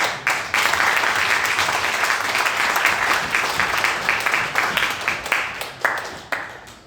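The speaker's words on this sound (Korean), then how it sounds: "우리 참조하신 분들 감사해서 박수 한번." Members of a church congregation applaud together at an Easter service, a full, loud burst of many hands clapping that holds steady before thinning into scattered claps and fading out at the end.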